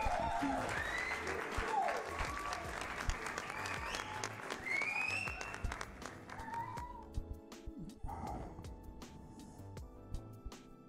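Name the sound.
audience applause during live painting broadcast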